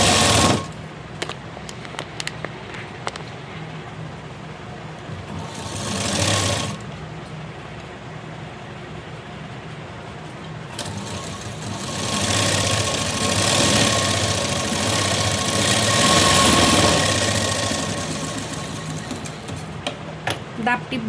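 Domestic sewing machine top-stitching a blouse sleeve and its lining, a steady fast mechanical whirring and stitching hum in several bursts, close and loud, with brief pauses between runs.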